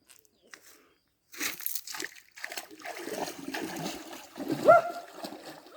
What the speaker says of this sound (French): Et pour vous, je me jette à l'eau.